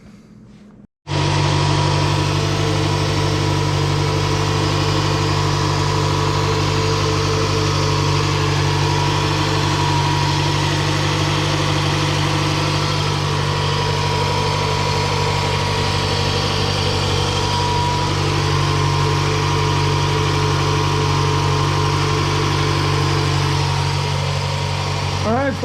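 A 2006 Toyota RAV4 with a 2.4-litre engine idles steadily on fresh spark plugs, a close, even hum with a low, constant throb lasting well over twenty seconds after a brief quiet start.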